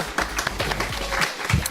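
An audience at a citizens' debate forum in Daejeon breaks into short, brisk applause, a scattered patter of clapping from a roomful of people.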